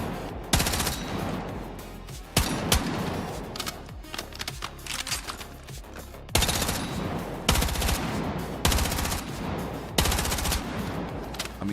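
Automatic rifle fire in the video game Battlefield 6, the gun fitted with a compensator or muzzle brake, rattling out in repeated loud, close bursts separated by short pauses.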